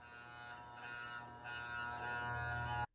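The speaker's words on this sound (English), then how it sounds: "we're going to use the clipper by itself with the taper lever all the way down" An electric hair clipper with the taper lever all the way down buzzes steadily while cutting hair, a close, constant whine that grows slightly louder before cutting off abruptly at the end, no speech.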